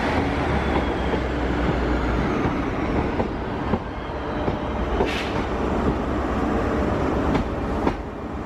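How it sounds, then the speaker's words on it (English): A passenger train bound for Hereford runs past at Worcester station, producing a steady, loud rolling rumble with occasional sharp wheel clicks and clacks over the rails, continuous throughout with no voices. "forgot to film my train when I got on it, so there it is now"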